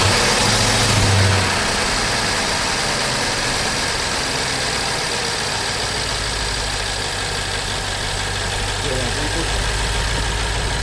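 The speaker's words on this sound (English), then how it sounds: "let me go ahead and start the vehicle" A car engine with a suspected bad catalytic converter starts and settles into a steady idle, a loud continuous close-up hum that runs unbroken to the end.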